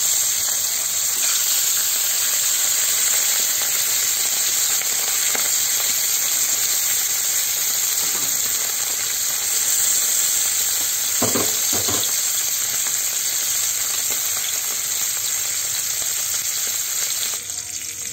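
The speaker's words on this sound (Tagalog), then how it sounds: "Hanguin na natin at magprito ulit tayo. Ayan, maglagay na ulit tayo ng isda." Fish fries in hot oil, a constant dense sizzle that stays steady throughout, broken by a couple of brief louder crackles and stirring sounds, close by and without talking.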